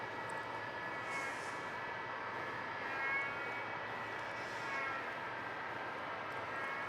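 A Qantas airliner on flight 483 from Sydney arrives at Melbourne Airport, its engines giving a steady, moderately distant jet roar that swells slightly a couple of times.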